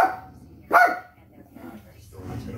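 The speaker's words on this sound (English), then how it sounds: "They bark at him." A dog barks once, close and loud, in a short burst amid household voices, with low talk continuing before and after the bark.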